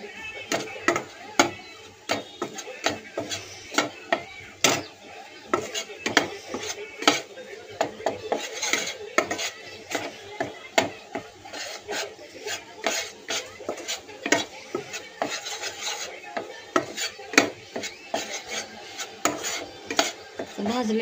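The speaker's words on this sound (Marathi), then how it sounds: "आधी मैदा चांगला भाजून घ्यायचा आणि मग दूध घालायचं आपण" Maida flour being roasted and stirred in a pan for white sauce, with repeated scraping and clinking of a spoon against the metal pan in an irregular rhythm, fairly quiet.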